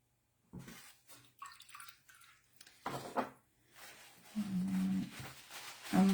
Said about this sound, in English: I'm rinsing my brush quite a bit